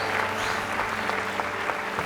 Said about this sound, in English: clapping for you, cheering for you.